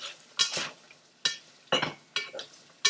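Potatoes for a Spanish tortilla fried in a pan and stirred around, with intermittent scraping strokes of a utensil against the pan over a soft sizzle, about six distinct stirs at irregular intervals.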